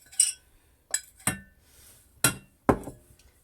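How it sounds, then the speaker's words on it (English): Metal spoon clinking against a cup while stirring cocoa and sugar into milk: four or five sharp, separate clinks spaced unevenly over a few seconds, close and clear against near silence. "you just stir it until everything dissolves"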